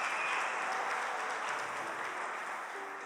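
Steady applause from a church congregation, a dense wash of clapping that holds evenly for a few seconds and tapers slightly at the end.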